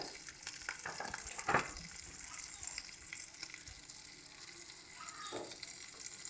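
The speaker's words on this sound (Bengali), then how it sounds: "মশলা কষিয়ে নেব তো দেখো আমাদের কিন্তু মশলা প্রায় ভাজা হয়ে এসছে" Ground chili, coriander and cumin masala fries quietly in a pan, a low continuous sizzle with occasional scrapes and one brief clatter of stirring early on.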